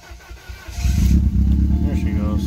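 A car engine cranks with rhythmic starter pulses, then catches and roars into a loud, rough idle close by.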